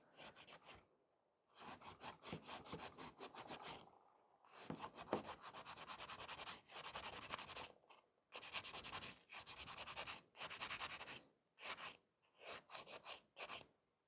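Nail file rubbing across a fiber gel nail to smooth the apex during an infill, in quick rhythmic bursts of close, gritty scratching separated by short pauses.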